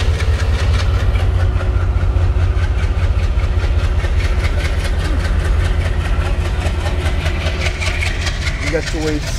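A train waiting or passing on railway tracks, with a steady, loud engine idle and a continuous low rumble throughout, with faint rhythmic clatter over the top.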